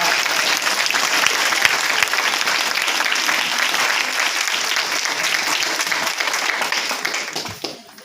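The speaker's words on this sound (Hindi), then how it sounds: "तालियां होनी चाहिए सबके लिए जोरदार" A large seminar audience gives loud, continuous applause, a thick even wash of many clapping hands that holds steady for several seconds and then fades out at the end.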